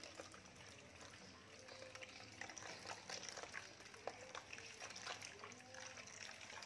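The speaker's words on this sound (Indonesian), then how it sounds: "Ini kita cuci di air mengalir." Aloe vera leaves being washed under running tap water, a steady splashing trickle with small irregular splats, faint and close, with no talking.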